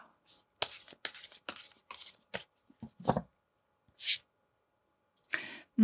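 Tarot cards are handled and laid out in a series of close, crisp snaps and soft slides, separated by short pauses.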